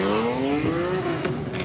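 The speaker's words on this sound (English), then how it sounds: "So I think that guy just triggered an entire like rev battle right now." Car engines revving hard at a wild Miami car meet rev battle, a loud close engine note climbing steadily in pitch over a second and a half, with no talking.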